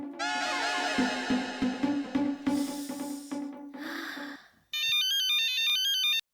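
An electronic ringtone melody plays loudly, breaks off, then a steady beeping ring tone of an outgoing phone call sounds alone for a couple of seconds before stopping.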